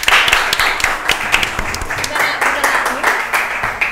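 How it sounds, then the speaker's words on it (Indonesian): Audience applause at a motivational talk session, a burst of dense clapping from a crowd that carries on steadily for several seconds, close and fairly loud. "Oke, tepuk tangan dulu dong Bapak Budi."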